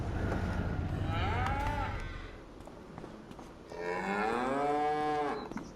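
Cattle in Farming Simulator 25 moo loudly in two long, drawn-out calls, one near the start and a fuller one near the end, over steady farmyard background noise.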